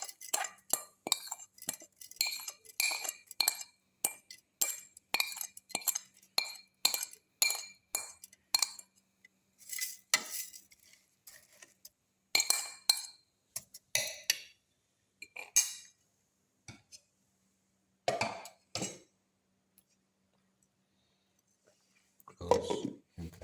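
A spoon knocks and clinks against a grinder jar as sugar and cumin seeds go in, a burst of quick bright taps followed by sparser separate clinks with silent gaps, close and fairly quiet.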